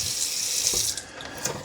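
Water runs from a tap, rinsing the dirty water tank of a Shark robot vacuum and mop combo; a steady splashing stream for about a second that eases and then continues more lightly.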